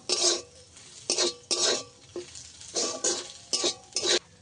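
A spoon stirring garam masala into a fried filling in a pan, with about eight short scraping strokes in an uneven rhythm, close and moderately loud.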